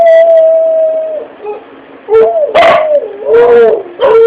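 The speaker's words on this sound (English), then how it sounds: "Uh-oh, here goes the howling." Several dogs howl and bark in response to a passing siren, a sustained howl giving way to a burst of louder, overlapping barks and yips close by, with a person's voice mixed in.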